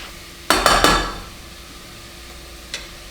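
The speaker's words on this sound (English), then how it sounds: "you're just sauteing your ground turkey breast here" Ground turkey breast is stirred in a pan, three quick scraping, clattering strokes close up, then quiet sizzle and a later small clink.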